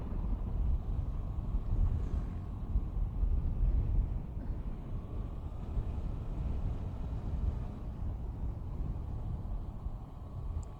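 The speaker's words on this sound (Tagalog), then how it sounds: "Ang lakas ng hangin, grabe." Steady, heavy wind buffets the microphone in a continuous low rumble during a Suzuki Burgman 125 scooter ride in Ilocos Sur, with no voices.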